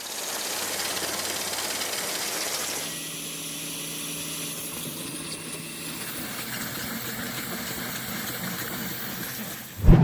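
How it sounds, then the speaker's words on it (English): Factory machinery strips casings from sausages in a hot dog plant, giving a steady, continuous hissing mechanical roar with a slight shift midway and a sudden loud clunk at the very end. "industrial machinery can remove the casing from 700 sausages per minute"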